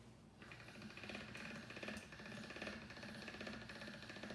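The thickness dial of a pasta machine is turned and clicks, giving a quiet, steady run of ratcheting mechanical clicks with a faint whir, close by, with no talking.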